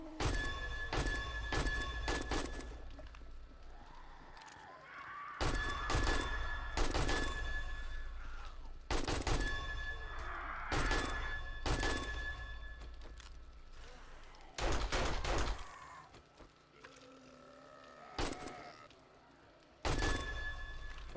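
Bursts of full-auto AK rifle fire in the survival game 7 Days to Die ring out loud and close, with about six separate volleys spread across the stretch, short gaps between them and faint background noise.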